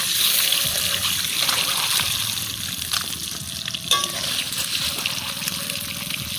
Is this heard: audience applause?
no